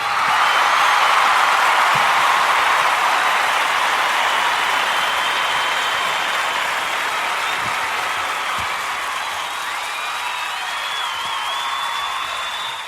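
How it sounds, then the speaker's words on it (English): An audience claps steadily to welcome Luke Howard on stage at a live show, a dense sustained round of applause that stays loud and even, thinning only slightly toward the end. "thank you very much for that wonderful applause"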